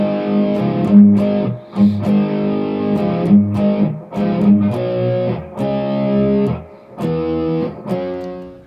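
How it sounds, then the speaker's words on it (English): Heavily distorted electric guitar plays a riff of sustained notes with short gaps between phrases, loud and close with no voices. "I want to mention what kind of distortion pedal I'm using with this lesson"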